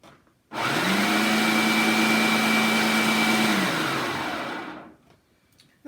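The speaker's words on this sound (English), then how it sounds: "I'm going to peel my bananas, toss them into this food processor with my pineapple," A food processor blending peeled bananas with pineapple whirs up loudly, holds a steady motor whine for about three seconds, then winds down and cuts off, with no one talking.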